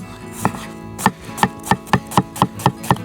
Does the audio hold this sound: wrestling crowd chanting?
no